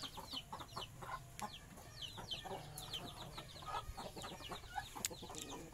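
Free-range Indonesian village chickens, a hen and a crossbred rooster, cluck repeatedly in short, fairly quiet bursts across an outdoor yard, with a steady murmur of other fowl around them.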